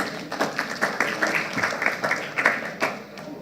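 An audience at a political speech at Solidarity House in St. Michael breaks into applause, a dense patter of many hands clapping at moderate volume with a few louder swells, steady throughout without pause.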